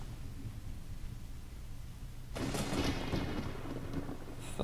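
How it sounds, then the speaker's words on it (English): Thunder in the Zelda: Ocarina of Time video game, a low rumbling roll with dense rain hiss that suddenly swells louder and brighter halfway through, continuous and loud, no talk. "thunder."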